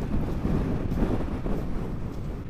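Strong storm wind from Storm Brendan buffets a motorcycle rider, a steady loud rushing roar with gusty swells battering the microphone throughout.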